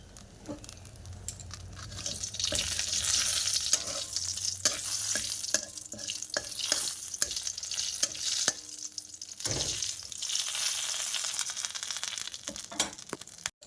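Cumin, dried chillies and bay leaf sizzle in hot oil in a pan, a close crackling fry broken by frequent stirring clicks and scrapes, with no talk.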